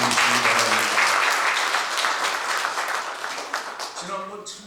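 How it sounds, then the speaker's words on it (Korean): A church congregation claps together for a choir after a call to give glory to God, steady close applause fading slightly, with a voice speaking near the end. "박수로 하나님께 영광 돌리시기 바랍니다."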